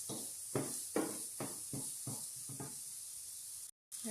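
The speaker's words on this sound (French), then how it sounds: "Et on fait revenir son oignon" Onion sautéing in spices in a pan for a black rice noodle dish, a soft steady sizzle with rhythmic stirring scrapes at close range and a brief dropout near the end.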